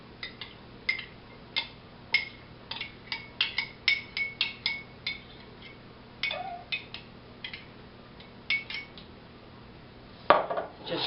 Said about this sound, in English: Just mix these together.